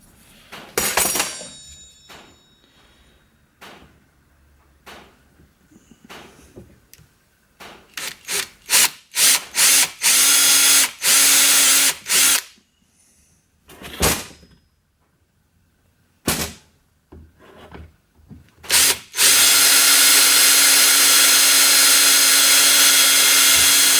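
A power drill bores two holes into wood while building a 12-volt pulsating jig, loud whirring bursts starting and stopping repeatedly, with long sustained runs near the end, close up and with no talk.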